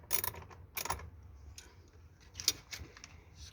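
Quiet metallic clicks of a ratchet turning an 8mm socket to loosen bolts on a 2018 Ford F550 during cabin filter removal, a few short bursts over a low background hum, no talking.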